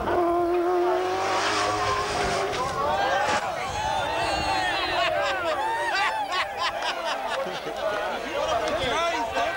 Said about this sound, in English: Now he'll start accelerating very hard, grabs third, grabs fourth